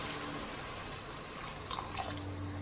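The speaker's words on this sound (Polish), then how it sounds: "I do tego wszystkiego dodajemy wody, nie za dużo, tak żeby troszeczkę przykryły właśnie warzywa." Water is poured into a pot of vegetables for Greek fasolakia, a soft, steady splashing hiss that stays faint and even throughout, with no talking.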